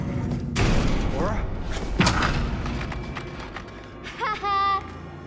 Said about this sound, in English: Open the door, Laura